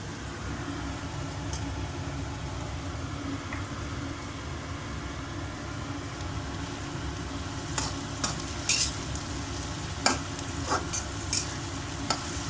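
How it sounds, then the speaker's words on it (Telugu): Paneer fries in a pan toward a light golden colour, giving a constant low sizzle with occasional sharp scrapes and taps of stirring near the end. "లైట్ గోల్డ్ కలర్ వచ్చే వరకు ఫ్రై చేసుకుందాము."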